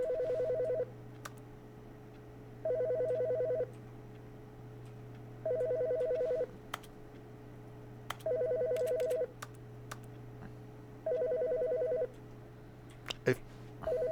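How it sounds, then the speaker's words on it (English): A phone rings inside the video game The Stanley Parable, giving five evenly spaced electronic ring bursts over a low steady hum, with occasional faint clicks between rings. "There's a phone ringing now."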